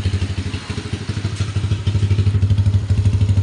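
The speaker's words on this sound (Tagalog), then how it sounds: "Makapansin nyo maingay siya kasi naka bullet pipe siya, bullet pipe na tambutso" A motorcycle fitted with a loud bullet pipe exhaust idles close by, its engine thumping in a fast, rhythmic, clattering pulse that grows steadier and stronger.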